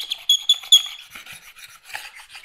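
Scraper rasping over a painted kitchen cabinet surface to knock down bumps and ridges before a water-based coat goes on, a few sharp strokes up front followed by softer, continuous rubbing, close and fairly loud.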